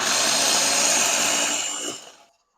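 Dried bunching onions being pressed and chopped in a covered electric mini chopper, giving a steady loud whirring buzz for about two seconds before the motor winds down and stops.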